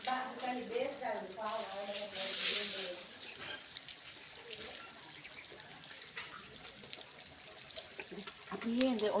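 Water runs from a tap at a hot spring site in Kanniya, a continuous splashing trickle that stays moderately close while voices talk over it throughout.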